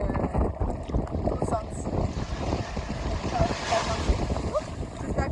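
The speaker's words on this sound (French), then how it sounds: "il y a un petit peu de vent là où on est" Wind blowing at a Grenadines seashore with the speakers standing in the water, a steady broadband rush and buffeting on the microphone running under continuous close talk throughout.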